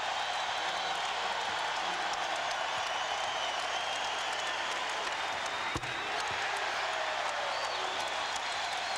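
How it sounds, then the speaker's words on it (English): A basketball arena crowd at an Iowa State versus Nebraska college game roars and applauds in a continuous, loud wash of cheering and clapping, a sustained wall of noise with one sharp thud partway through. "Listen to the crowd."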